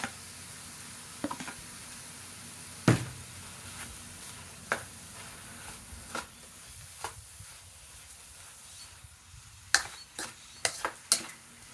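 Broccoli and shrimp stir-fry in a wok with a soft, low sizzle, broken by scattered scrapes and clacks of a utensil against the pan that bunch together near the end.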